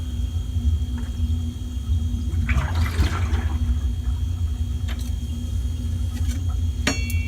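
A valve is opened on a conical fermenter and liquid drains out with a gurgling, rushing swell in the middle over a steady low hum, close by, followed by a few small clicks and no talking.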